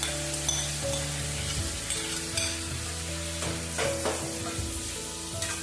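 Chopped lemons stirred in a pan of pickle mixture give a steady wet sizzle with soft scraping and clinking from the spoon, close and continuous without talk.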